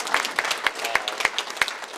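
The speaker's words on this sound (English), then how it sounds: "so give them a round of applause" Dinner audience at a high school sports hall of fame banquet applauding a couple, sparse scattered hand claps at moderate level, a modest crowd rather than a roaring ovation.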